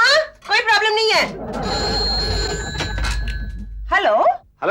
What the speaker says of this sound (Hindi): मैं प्रिया को फोन करता हूँ